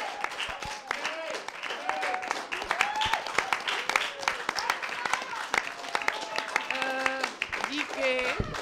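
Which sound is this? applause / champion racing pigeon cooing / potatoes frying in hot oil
applause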